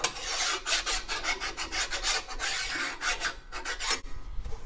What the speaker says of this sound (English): Take a nice flat file. Since I know I've got a nice flat surface, I'm gonna hit everything.